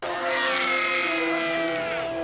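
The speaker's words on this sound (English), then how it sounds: "Ah, the screams." A scream from the film X2: a single loud, piercing, drawn-out cry with a strong tonal edge that holds steady for about two seconds.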